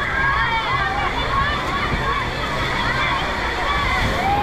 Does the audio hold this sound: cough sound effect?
no